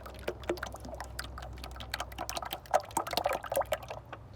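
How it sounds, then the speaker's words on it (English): Motor oil glugs and splashes as it is slowly poured into the engine of a 2010 Toyota Highlander with a four-cylinder engine. The pour is quiet and close, with small irregular gurgles that grow livelier toward the end. "You want to pour this one slower."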